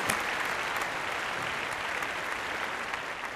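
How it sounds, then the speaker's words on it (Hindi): A studio audience at a Family Fortunes game show claps steadily through a New Year's episode, a dense, even wash of applause at constant loudness with no voices over it. "हाँ, तालियां एवरीबॉडी।"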